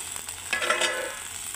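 Eggplant and flat beans sizzle as they drop into hot oil with ginger, cumin and green chilli paste, a brief rising hiss and crackle with faint stirring.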